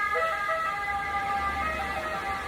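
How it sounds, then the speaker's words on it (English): An emergency vehicle siren wails outside with steady, sustained tones over faint road rumble, distant but clear and uninterrupted by talk. "oh, and we have a siren going back now."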